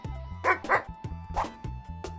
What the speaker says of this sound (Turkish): Bir köpeğin. Köpek.